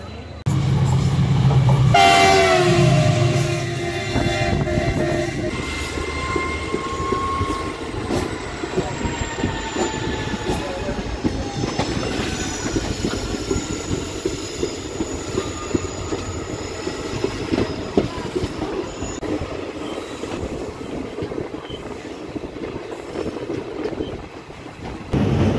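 Pulling out of a station on the Murkongselek line, the 15813 Dekargaon–Murkongselek Express sounds a loud horn blast early on, then rolls away with wheel squeal and a steady, building rumble heard from on board.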